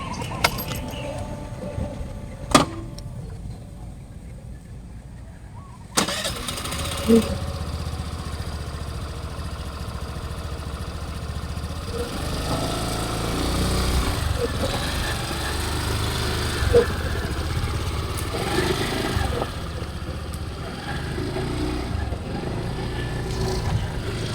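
Suzuki Burgman Street 125 scooter: a couple of sharp clicks and clatter, then the engine starts and idles steadily at close range for the rest of the stretch, with light handling noises.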